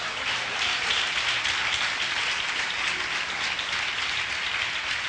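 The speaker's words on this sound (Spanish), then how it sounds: "Denle un aplauso al Señor." A church congregation claps in a steady, dense burst of applause, even and sustained across the moment with no voices over it.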